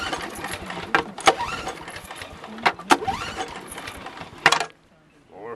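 A gas snowblower engine on full choke and full throttle is cranked, probably running on bad fuel. Several sharp bursts of cranking turn over with a rough, sputtering catch, then it cuts out into near silence.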